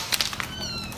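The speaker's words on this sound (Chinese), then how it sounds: "这些小猫咪， 来，你看，你在叫。" Hungry kittens meowing close by, several short high cries in quick succession over a steady background hiss.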